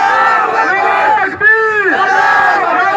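A large crowd at a Bata Pakistan employees union election rally in 2021 chants back in loud unison, its voices swelling and sustained and briefly dipping before the next roaring chant.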